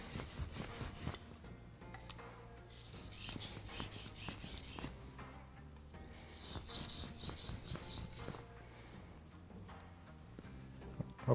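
A Japanese kitchen knife is sharpened on a whetstone with steady, rhythmic back-and-forth rasping strokes. The scrapes are quiet and close, in regular bursts with short pauses between them.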